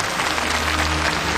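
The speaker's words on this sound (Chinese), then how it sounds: "掌声欢迎他们。" A studio audience at a televised evening gala honouring Chinese space programme workers bursts into dense, steady applause, loud and sustained with no voices over it.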